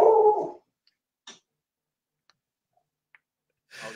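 A dog gives one short bark indoors at the start, followed by a near silence with a few faint ticks and clicks and a soft rustle at the end.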